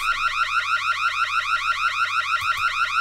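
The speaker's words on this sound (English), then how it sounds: "This alarm is causing a tad sensory overload right now." A video game alarm blares alone, a loud, steady, rapidly warbling electronic tone pulsing in a fast even rhythm, with a couple of faint clicks near the end.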